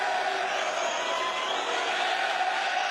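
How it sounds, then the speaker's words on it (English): Crowd noise in a boxing arena during a featherweight card, a dense, steady roar of many voices chanting throughout, loud and continuous with no gaps. "the crowd vociferously chanting"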